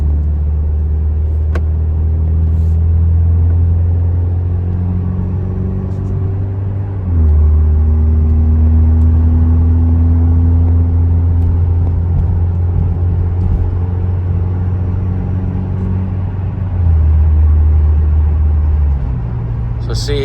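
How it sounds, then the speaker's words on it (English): An Alfa Romeo Stelvio 2.0 fitted with a Monza exhaust cruises steadily on a highway in natural drive mode, giving a loud, continuous low engine drone that swells slightly at two points. "I'm going to get it up to like 65, 80, just so you can hear what it sounds like on the highway."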